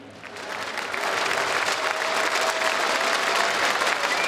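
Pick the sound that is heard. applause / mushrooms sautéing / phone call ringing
applause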